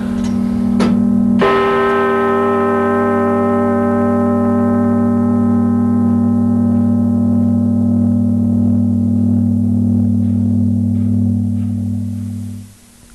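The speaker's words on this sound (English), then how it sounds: "this clock was the very first clock in Europe to be able to chime in one tower and strike in the other" Beverley Minster tower clock: a single loud bell strike rings out with a long sustained resonant hum that slowly decays over many seconds, preceded by a faint earlier tap.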